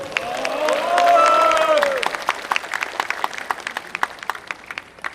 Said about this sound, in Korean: 그분들에 대해서도 한번 큰 박수 한번 해주시기 바랍니다